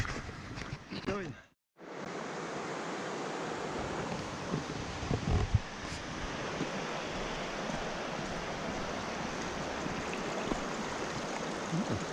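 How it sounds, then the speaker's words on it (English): River flowing in the Aberglaslyn valley, a steady broad rushing wash heard from the bank, continuous and fairly close after a brief dropout near the start, with a little wind buffeting. "There's the river."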